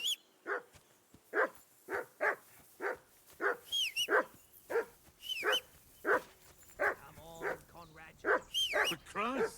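A dog in the medieval game Kingdom Come: Deliverance II barks repeatedly in a steady series of sharp, fairly close barks, mixed with whining whimpers and yips toward the end.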